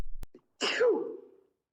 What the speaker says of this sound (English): Did you just sneeze